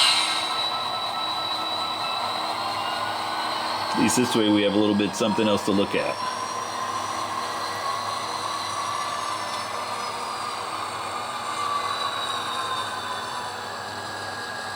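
A GP38-2 model locomotive moving box cars on a layout, a faint steady motor whir with a short burst of clicking and rattling from the cars, while someone talks over it.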